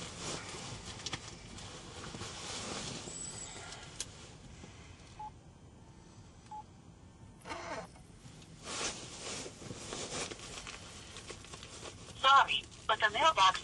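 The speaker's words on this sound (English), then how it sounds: "Actually, before we do that, let's give a call to Robert." A phone call placed to a wholesale auto parts supplier, with touch-tone dialing beeps near the end and a faint line tone earlier, all under ongoing room noise and intermittent talk.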